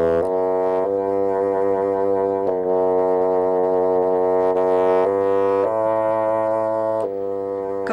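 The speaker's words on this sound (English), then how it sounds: "Tchaikovsky's Sixth Symphony, which starts with a bassoon solo" A solo bassoon plays the low, somber, soft opening of Tchaikovsky's Sixth Symphony in long sustained notes that shift pitch slowly. The tone is steady and mellow, heard alone at moderate volume.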